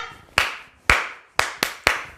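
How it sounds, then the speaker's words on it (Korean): Five crisp, close hand claps from a stretching class instructor ring out alone, evenly spaced at first and then quicker, each a sharp snap with a short decay. "자 박수 다섯 번 시작."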